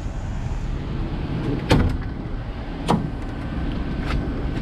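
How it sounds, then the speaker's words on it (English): Rear doors of a Sherrod conversion van swinging open, heard as two separate solid clunks about a second apart over a steady low vehicle hum, with no voices. "So these doors will swing all the way around."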